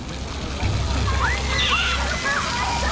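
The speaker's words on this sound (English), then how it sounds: "it's not warm enough to be playing in that fountain, that's for sure." A child splashes and sloshes in a town fountain on an overcast day, steady water noise with irregular splashes close by, while people talk over it.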